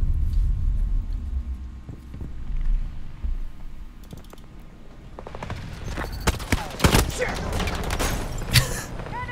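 Enemy gunfire in Battlefield 2042 starts after a quiet, creaky mechanical stretch, then rapid clattering shots and impacts pile up over the second half, loud and close.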